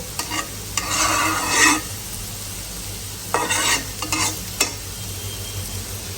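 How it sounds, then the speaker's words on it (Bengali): Spice paste being fried and stirred in a pan for hilsa fish curry: a steady low sizzle runs throughout, broken by several close, scratchy bursts of a spoon scraping and stirring. "এইখানে দেখতে পাচ্ছেন ইলিশ মাছ রান্না করার জন্য মশলা কষিয়ে"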